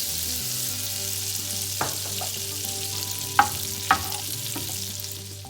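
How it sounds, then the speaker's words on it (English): Olive oil and butter sizzle in a pan for an English breakfast, making a continuous bright hiss with a few sharp clinks of a utensil against the metal. "going to add olive oil and half amount of butter into that."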